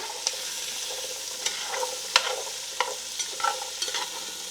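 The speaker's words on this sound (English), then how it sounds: "put in your veggies. Give them a stir." Vegetables including onions stirred in a hot pot that held meat, a steady sizzle broken by scattered scraping clicks of the spoon at irregular intervals, close and moderately loud with no talking.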